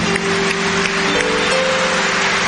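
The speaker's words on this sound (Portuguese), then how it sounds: "Podemos aplaudir a palavra de nossa salvação com alegria" A church congregation at a Catholic Mass applauds the Gospel reading. The clapping is a steady, dense wash that fills the whole moment, with a faint sustained musical tone held underneath.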